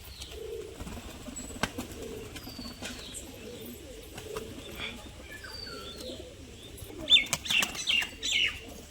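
A female pigeon flaps its wings in brief bursts during a flight display, with coos and chirps from other pigeons nearby, growing louder and busier toward the end.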